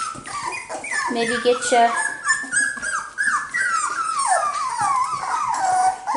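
Cockapoo puppies whimper and yip in a continuous chorus of high, wavering cries, with a person talking over them close by.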